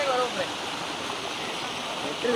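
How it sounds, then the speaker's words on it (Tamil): A small waterfall running down a mountainside near Munnar rushes with a loud, continuous broadband splash, close by and filling the whole moment. "மலையில இருந்து இறங்கி இது ஒரு அடி ஃபால்ஸ் ஓடுது"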